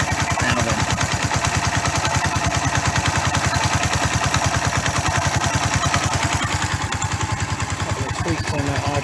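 A Suzuki GN 125 motorcycle engine idles steadily at close range, its single-cylinder thump a fast, even pulse that carries through the whole stretch without revving.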